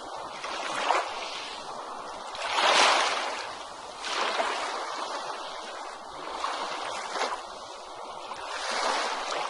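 Ocean waves surge and wash ashore in repeated swells, each rush rising and fading every few seconds in a gentle, continuous rhythm with no voices.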